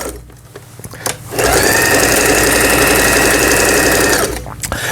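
A Lion 419s industrial sewing machine stitching quilted fabric: after a brief start, a loud, steady mechanical whir runs for about three seconds, then stops, heard alone without speech.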